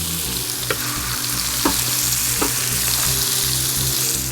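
Potatoes and onion sizzle loudly in a pan, a dense steady frying hiss with a few scraping clicks of stirring.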